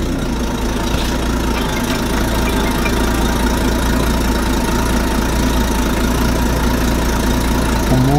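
A truck engine idles right after being started, a loud, steady low rumble with a faint knocking pulse, close by and continuous with no talk.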